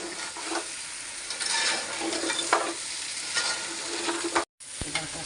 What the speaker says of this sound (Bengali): পাগুলো দিয়ে হালকা করে একটু ভাজা দিয়ে নিই